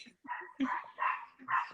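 A new puppy gives a short run of high yips and small barks, close and fairly loud, about four quick bursts with no speech.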